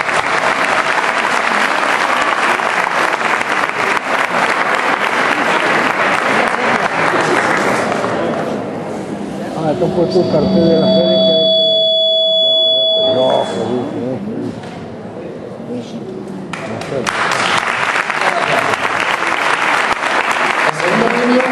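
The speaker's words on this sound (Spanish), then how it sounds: "Un aplauso a todos." An audience applauds at the award ceremony for the 2011 Dos Torres fair poster prize. Dense clapping starts and ends the stretch and eases in the middle, where a brief spoken phrase and steady electronic tones sound.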